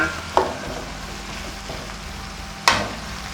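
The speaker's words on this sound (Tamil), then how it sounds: "தக்காளி வதங்கட்டும்" Two tomatoes sauté in a pan, a low steady sizzle nearby with two sharp spoon clacks against the pan, one early and one near the end.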